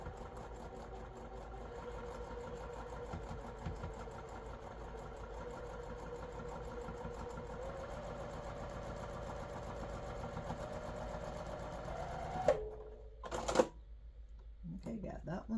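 A sewing machine runs slowly and steadily, stitching a quilt block over its seams, a continuous close mechanical whir that cuts off near the end, followed by a few brief clicks and handling noises.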